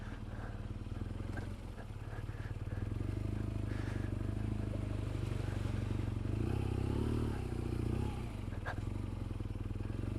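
BMW R1200 GS motorcycle ridden off-road through mud, a steady loud engine drone with low rumble and some clattering, rising in effort midway, with the rider talking briefly over it.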